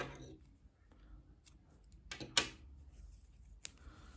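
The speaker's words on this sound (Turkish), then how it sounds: "İpliği kesiyorum." Scissors snip through knitting yarn with a few crisp, close cuts, one sharper snip standing out, against a quiet room with no talking.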